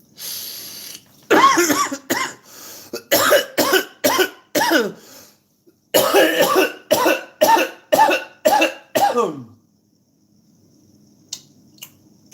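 Repeated harsh coughs in two long bursts, each cough short and forceful, close by, with a pause in between and quiet afterward.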